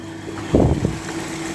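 A water pump motor running at a fish pond gives a steady low drone throughout, with a brief louder surge near the middle.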